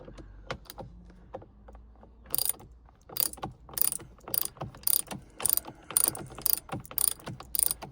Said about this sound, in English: I'm just wondering whether the head of that is what's rattling around